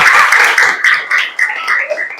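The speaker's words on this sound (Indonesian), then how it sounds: "Tepuk tangan dulu buat Gustaf ya." Schoolchildren in a classroom clap for a classmate after a lesson on magnets, a loud, close burst of hand claps that comes in uneven waves and tapers off within a couple of seconds.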